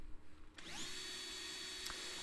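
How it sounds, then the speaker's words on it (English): A power drill bores out pop rivets on a Majorette Alfa Romeo 75 model car, spinning up with a rising whine after a short pause and holding a steady, fairly quiet high-pitched drone. "I take my my handy dandy drill and drill out the front and the rear pop"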